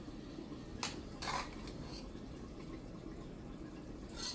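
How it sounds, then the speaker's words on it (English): Spoon stirring white rice in a pot, a few short scraping clinks of utensil against metal over a quiet background, faint and intermittent. "I'm gonna stir up my rice."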